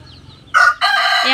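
A rooster crows close by in two short bursts, loud and a little rough, like a young bird still learning to crow.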